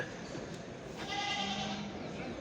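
A goat bleats once at a livestock market in Çorum, Turkey, a wavering nasal call over steady outdoor noise and the faint hum of a busy place.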